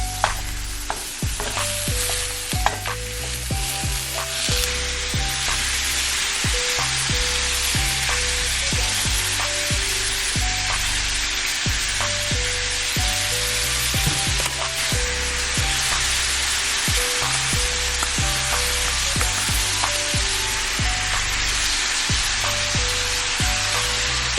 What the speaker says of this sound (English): there go that sizzle